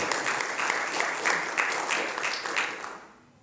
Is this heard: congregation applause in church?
yes